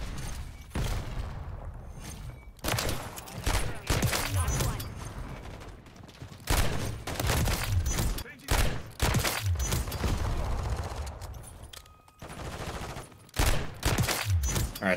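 Gunfire from a TYR rifle fitted with the Jak Beholder kit in Modern Warfare 3 sounds in repeated loud bursts and volleys across the whole stretch, with brief pauses between them and a voice talking at times.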